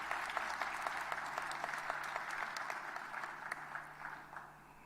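An audience at a municipal election results announcement applauds the CEO, steady scattered clapping from a modest crowd that thins and fades toward the end, heard fairly quietly.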